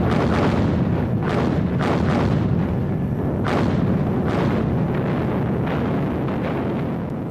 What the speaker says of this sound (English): First came a massive Soviet artillery barrage.